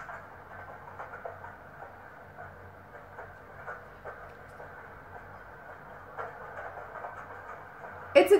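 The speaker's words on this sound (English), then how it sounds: "It's a train." A train rumbles along at a distance with a steady mechanical drone and faint rhythmic clacks, ending with a sharp louder burst.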